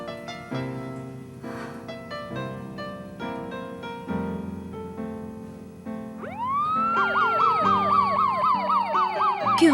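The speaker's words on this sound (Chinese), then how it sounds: "救护车" An ambulance siren rises in and wails in a loud, steady up-and-down pattern over a background music score, growing louder toward the end.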